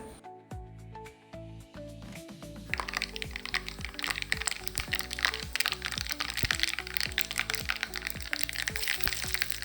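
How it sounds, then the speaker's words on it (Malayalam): Mustard seeds sizzle and pop in hot coconut oil in a pan. Sharp crackles start sparse, then turn into a dense, fast run of close, loud pops over a continuous hiss, with no voice. "വെളിച്ചെണ്ണ ചൂടായിട്ടുണ്ട് ഇതിലേക്ക് ഒരു ടീസ്പൂണ് കടു ഇട്ട് കൊടുക്കാം"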